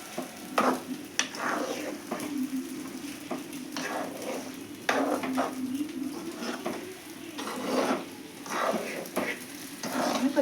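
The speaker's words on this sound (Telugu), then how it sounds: "పొడి వేసి ఒక్కసారి అండి చిన్నగా వంకాయలు చిట్టుకోకుండా కలుపుతాను" A spatula stirs brinjal curry with ground peanut powder in a pan, giving repeated scraping strokes in an uneven rhythm over a steady low sizzle, close and moderately loud.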